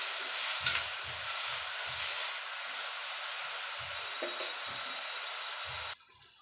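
Onion, cauliflower, carrot and tomato sauté in a pan for spinach pulao, a dense, steady sizzle with soft rhythmic stirring thumps that cuts off abruptly near the end.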